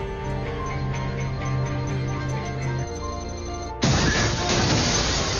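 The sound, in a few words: bulletproof glass being smashed in a film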